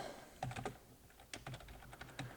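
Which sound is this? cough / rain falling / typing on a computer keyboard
typing on a computer keyboard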